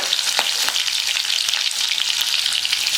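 Cumin, garlic and green chillies fry in hot oil, a dense continuous sizzle with faint stirring taps, close and loud throughout with no voices.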